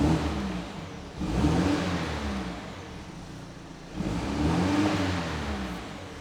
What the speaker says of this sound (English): put it in the sport and give it a little rev